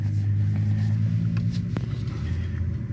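Large luxury SUV such as an Escalade, QX80 or LX600 crawling off-road in low gear with crawl control, a close, steady low engine rumble with faint knocks and creaks over it.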